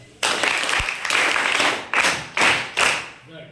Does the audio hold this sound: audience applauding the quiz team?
yes